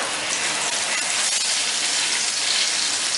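Cashew nut and onion paste sizzles in a hot pan, a steady, loud hissing fry that holds evenly throughout without any talking.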